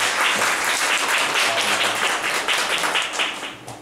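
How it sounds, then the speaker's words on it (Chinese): An audience at a lecture claps to welcome a speaker: dense, steady applause from many hands, loud at first and tapering off toward the end, with no speech over it. "我们再次热烈掌声欢迎杨一川到我们。"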